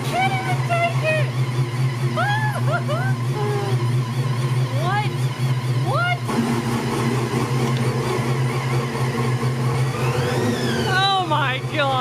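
A supercharged LS engine idles steadily with a loud, close rumble and an audible blower whine, while excited voices talk over it throughout.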